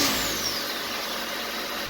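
A parts car's engine running as the car is pulled out of a tight garage, a steady mid-pitched engine drone with a faint rising whine at the start, close and fairly loud, with no talking.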